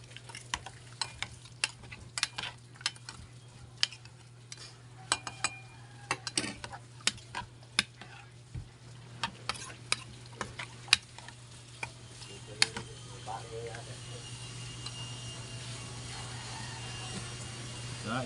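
Stirring kinilaw na bangus with coconut milk, Bisaya style: a series of sharp clinks and scrapes in an irregular rhythm, close and fairly quiet, over a steady low hum.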